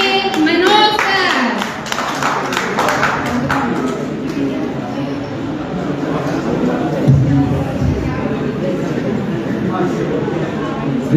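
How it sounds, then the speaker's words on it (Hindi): An audience claps to welcome Manoj sir before he recites a poem at a speech-and-poetry event with staff present. The clapping is strongest at the start, then fades as a voice begins talking over the room. "तो जोरदार तालियों से स्वागत करिए मनोज सर"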